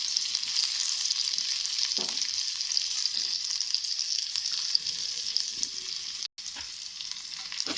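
Chopped ginger sizzles and crackles in hot oil in a home-cooking pan, a steady bright frying hiss running throughout with faint stirring knocks and no talk.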